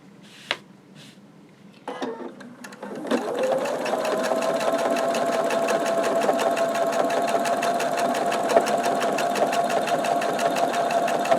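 Sewing machine quilting through a padded layered quilt block, starting after a few handling clicks and then running in one long steady, fast stitching stretch, close and clear.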